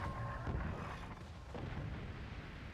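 A cannon booms in the Forts video game on the Skylands map, with a dense, rumbling blast, a second heavy thud around the middle, and a steady low roar underneath.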